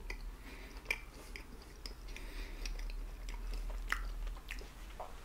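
Someone chews a no-bake peanut butter bar with icing on top, with soft, moist bites and quiet mouth sounds up close, all fairly faint.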